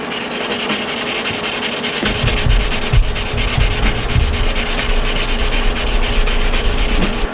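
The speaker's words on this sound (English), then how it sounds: "I have to sand this down, but it's gonna take a while." Continuous sanding of paint from a Mosin rifle's wooden stock: a steady, close abrasive rubbing that grows heavier and more grinding partway through, with no talk.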